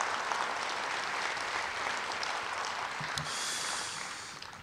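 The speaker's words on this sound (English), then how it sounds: "About another round of applause for Kevin McGeehan." A room full of people clapping steadily at a live storytelling show, a dense patter of applause that fades slightly toward the end.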